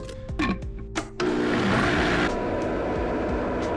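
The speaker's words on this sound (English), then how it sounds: "Or what I'm gonna do is just throw it in the blender." A kitchen blender whirs loudly as it mixes carbohydrate drink powder with water, starting abruptly after a few brief clicks and knocks and running as a steady, dense motor roar to the end.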